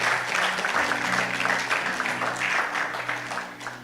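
Church congregation applauding and cheering loudly for Jesus during a French-language worship service, a steady broadband wash of clapping with a sustained musical tone underneath throughout.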